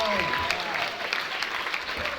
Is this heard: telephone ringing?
no